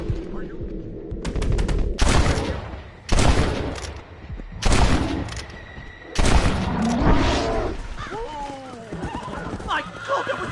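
Several loud gunshots ring out in Red Dead Redemption as a bear is fired upon, sharp bursts spaced a second or so apart, with horses whinnying and hooves shifting between shots and a voice speaking.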